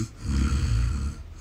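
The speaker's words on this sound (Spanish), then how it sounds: "Es mi hermano, está dormido pero ronca como que..." A sleeping brother snores in one long, rough, rumbling breath, close and steady for over a second with nothing else heard.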